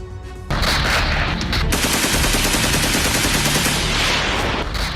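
Loud, rapid bursts of automatic gunfire rattle continuously after a brief moment of quiet, a dense crackling barrage with no voices.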